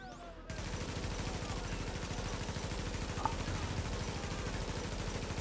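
Rapid automatic gunfire in a video game, a fast steady stream of shots starting abruptly after a brief lead-in and continuing unbroken, fairly loud and close.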